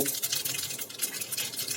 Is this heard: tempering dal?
yes